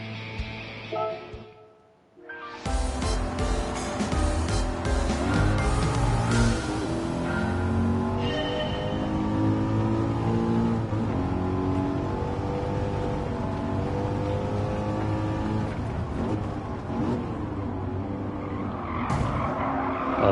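Racing cars in Gran Turismo 7 roar nearby with sustained engine drone, rising and falling revs and repeated tire squeals and skids, loud and continuous for the whole stretch after a brief dip at the start, with no talk.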